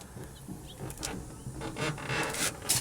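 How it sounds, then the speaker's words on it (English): Hand rubbing and squeaking across the clean metal body of a 1985 Mercury Lynx hatchback station wagon with a 1.9L engine, heard at night as a series of close, thin frictional squeaks and rubs over about three seconds. "That's my hand squeaking on the metal"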